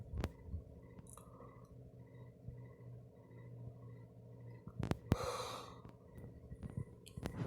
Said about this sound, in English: Got a yawn.